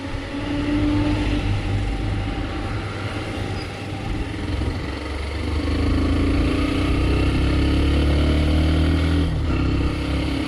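Hero Xtreme 125R motorcycle ridden off-road, a steady loud engine drone held close throughout with slight shifts in pitch, no voices.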